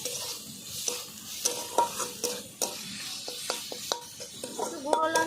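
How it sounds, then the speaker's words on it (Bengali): Fish oil sizzling in a pan while a spatula stirs and scrapes, with repeated sharp clicks of utensil on metal over a low frying hiss, close and moderately quiet. "ভালো করে এবার মাছের তেল দিয়ে ভেজে নিতে হবে মাছের তেলটাকে আগে"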